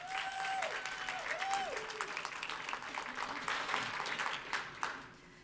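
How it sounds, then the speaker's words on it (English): Steady, dense applause from a crowd welcoming speaker Laci Phillips at the JUMPSTART 2019 speaking event, sustained for several seconds with a faint tonal hum underneath. "warm round of applause for Laci Phillips."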